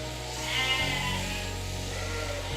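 Sheep bleating in a shearing shed on a British farm, with one loud drawn-out bleat close by over a low steady background hum, with no speech.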